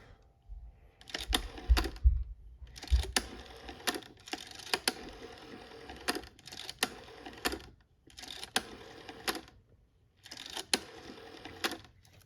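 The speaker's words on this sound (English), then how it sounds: "I'll dial some numbers." Quiet mechanical clicking and whirring in short bursts separated by brief pauses, like a rotary dial on a Yugoslav Elektronska Industrija ATA 71s telephone being turned and released several times.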